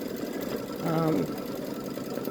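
Babylock Solaris Vision embroidery machine stitching a t-shirt, a short burst of whirring mechanical hum under a person talking.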